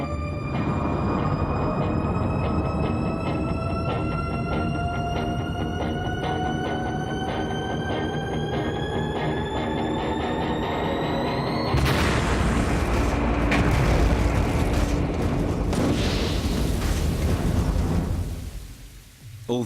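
A propellant tank under water pressure test splits at about 49 bar: a rising whine of strained pressure builds for several seconds, then a sudden loud burst gives way to rumbling, rushing noise that fades out.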